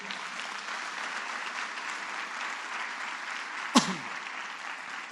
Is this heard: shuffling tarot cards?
no